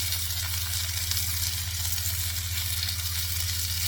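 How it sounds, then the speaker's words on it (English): Thinly sliced onion sizzles steadily in a hot pan for a bitter gourd and dry prawn dish, a dense close frying hiss with a low hum beneath and no talk. "I'm going to add the onion to this pan, the thinly sliced onion, and I'm going to give it a nice mix."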